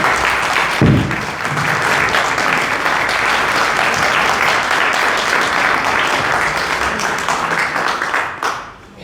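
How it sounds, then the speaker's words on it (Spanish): An audience at a book presentation applauds warmly and steadily for about eight seconds, a dense continuous patter of clapping close by that tapers off at the end. "le damos un aplauso a Belén también"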